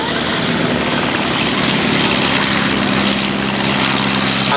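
Royal Aircraft Factory B.E.2c biplane flying at the Duxford air show, a loud, steady propeller engine drone that fills the whole stretch with no talking.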